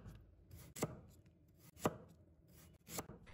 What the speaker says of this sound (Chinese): 我们将它切成薄片